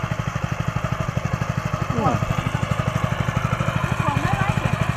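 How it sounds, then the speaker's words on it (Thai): A mini tractor of the Sia Krung brand chugs steadily up close as an elderly woman drives it, its engine pulsing in a fast, even rhythm while voices talk over it. "ขับรถไถมินิเสียกรุงของเราได้สบายๆเลยนะครับ"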